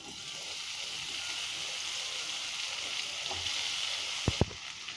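Ghee sizzling gently in a kadhai as mawa (milk solids) roasts, a steady soft frying hiss throughout with a couple of sharp stirring clinks near the end.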